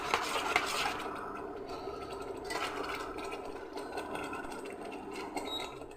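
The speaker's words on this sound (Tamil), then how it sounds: "இப்படி நல்லா கைவிடாமல் கலக்கி கொஞ்சம் நேரம் கொதிக்க வைங்க" A simmering mixture is stirred continuously in a cooking pot, giving a steady rasping, scraping texture at moderate loudness with no talk.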